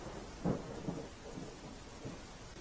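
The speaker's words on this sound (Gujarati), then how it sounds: "સુરતમાં વહેલી સવારથી જ અવિરત અવિરત વરસાદ વરસી રહ્યો છે" Steady heavy rain falls in Surat on the waterlogged Kim-Mandvi highway, with low rumbling thunder-like bursts rising over a constant wash of downpour, moderately distant and with no voices.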